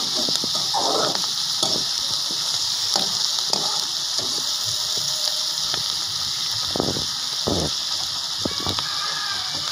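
Onion masala sizzles and fries in a pan for mutton curry while being stirred, with steady close frying hiss and repeated scraping strokes of the spoon throughout.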